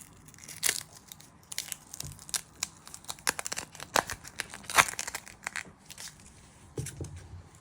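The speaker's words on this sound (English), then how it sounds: "you want to peel 2 layers of skin off your onion" Dry, papery onion skin being peeled away by hand, heard as faint, irregular crinkles and sharp little crackling tears scattered across a quiet background.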